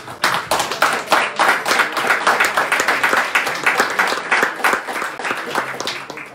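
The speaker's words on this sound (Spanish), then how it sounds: "les pido un fuerte aplauso para todos ustedes" Loud, close applause at a baseball team press conference: many hands clap in a brisk, slightly rhythmic patter that starts abruptly and keeps going strongly before easing at the end.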